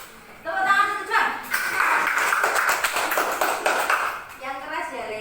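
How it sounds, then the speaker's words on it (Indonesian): Schoolchildren in a classroom clap for a student about to present, a scattered run of hand claps lasting a few seconds with voices talking before and after. "Tepuk tangan untuk John."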